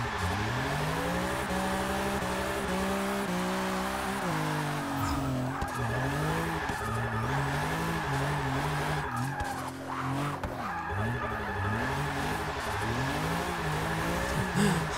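A 1997 BMW E36 M3 drift build in the Forza 6 video game, its engine revving and rising and falling through corners while the tires squeal loudly and continuously.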